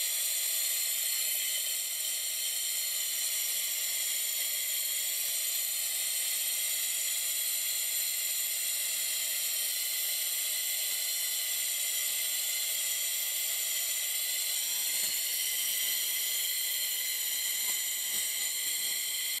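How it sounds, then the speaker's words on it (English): Laser cleaner stripping rust from old metal, a steady bright hiss that runs unbroken and fairly loud from start to finish, with no talk. "We're going to use the laser to clean everything up."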